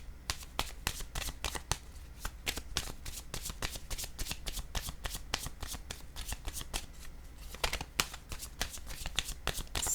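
Tarot cards riffle and snap through repeated shuffles, a dense run of crisp, close flutters with brief pauses between bursts, no talking.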